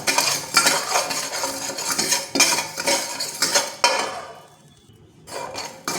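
Rock salt dry roasting and being stirred in a hot kadai, with steady scraping and clinking of a metal spoon against the pan, loud and close, easing into a brief quiet near the end before resuming.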